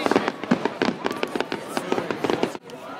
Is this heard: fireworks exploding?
yes